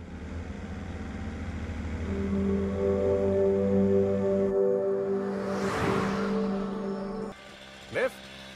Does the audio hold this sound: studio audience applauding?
no